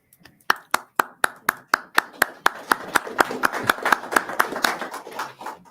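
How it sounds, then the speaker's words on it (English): Rhythmic hand clapping starts crisp and evenly spaced, then grows denser and louder as more people join in, becoming scattered applause in a council chamber after a budget vote. "we have an ordinance against clapping in the chamber"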